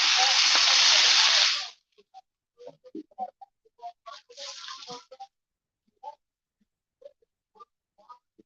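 Onions, peppers and mushrooms hitting a hot frying pan, a loud sizzle that cuts off after under two seconds, then scattered scraping and tapping with a brief renewed sizzle.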